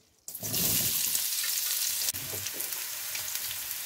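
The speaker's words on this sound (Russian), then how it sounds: "добавляю немного кунжутного масла и обжариваю цукини" Zucchini hitting hot sesame oil in a pan, a sudden loud sizzle that keeps crackling and spitting steadily, with a brief stir partway through and no talk.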